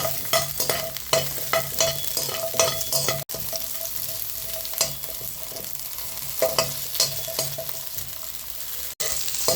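Finely chopped ginger fries in a pan with a steady close sizzle, punctuated by repeated scraping strokes of a spoon stirring it around.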